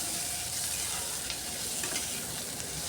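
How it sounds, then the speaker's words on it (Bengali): Ginger, onion and garlic fry in a pan with a steady, close crackling sizzle that holds at an even level throughout, while a spoon gives an occasional faint scrape against the pan. "এখন এগুলাকে আমি একটু ভালো করে ভেজে নিচ্ছি, আদা পেঁয়াজ রসুনটাকে"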